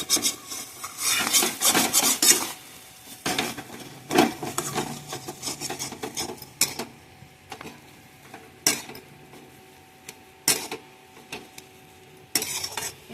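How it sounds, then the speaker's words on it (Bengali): Knife sawing through slices of bread to trim off the crusts for a fried sandwich, repeated rough rasping strokes in bursts with short pauses between, close and fairly loud, no speech. "এইভাবে পাউরুটির সাইডগুলো আগে কেটে বাদ দিয়ে দেবো।"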